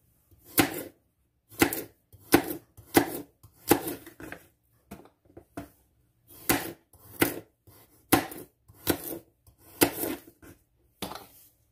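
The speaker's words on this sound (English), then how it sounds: "Take your carrots and chop these up." Carrots being chopped with a knife on a board: about a dozen crisp, close knocks in short uneven bursts separated by brief pauses.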